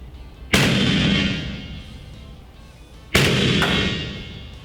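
Two loud, sharp reports from an Airforce Texan .357 caliber airgun firing air bolts, spaced about two and a half seconds apart, each with a sudden crack and a lingering decay, with no talking.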